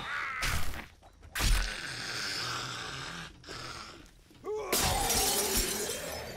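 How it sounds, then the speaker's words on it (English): Glass panes shatter in 7 Days to Die Alpha 20, several loud crashing breaks spread across the moment with sharp bursts separated by brief lulls of background game noise. "breaking glass left and right."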